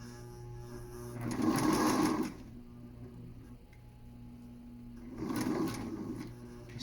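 A sewing machine stitching fabric for a DIY rope dart pouch runs in two short bursts of whirring stitches, close and fairly loud, separated by a quiet pause with faint ticks.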